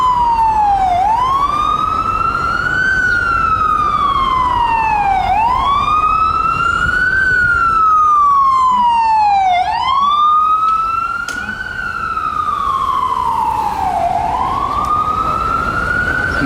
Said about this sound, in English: the ambulance trying to get through traffic